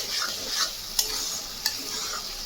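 Masala with yogurt being stirred while frying for a jackfruit and prawn curry, a soft sizzle under gentle spoon strokes with two sharp clinks against the pan, close and fairly quiet, no talking.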